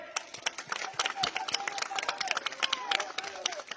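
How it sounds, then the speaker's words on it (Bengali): Crowd at a Bangladeshi political rally applauding, a dense patter of many hands clapping at close to moderate distance, continuous and slightly uneven across the whole stretch. "আপনারা সকলে 2 হাত তুলে একটা তালি মারেন"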